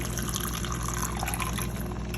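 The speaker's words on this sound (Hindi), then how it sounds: "अब इसमें मैं थोड़ा सा पानी ऐड करूंगी" Water poured into a pan of cooked masala for chicken chole, a steady close splashing pour with a broad continuous wash and no talk.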